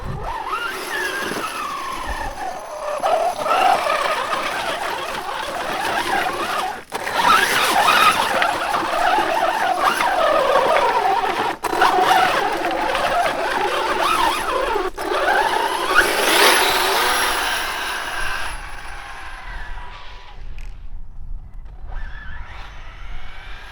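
A brushless Losi 5T RC car runs at full throttle through snow, its motor whining and rising and falling in pitch continuously for about twenty seconds, loud and close before fading near the end.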